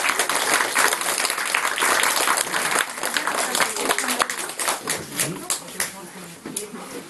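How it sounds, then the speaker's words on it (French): Parents clap for young performers at a school theatre show, a dense round of applause that gradually tapers off as voices come through underneath. "On peut les applaudir"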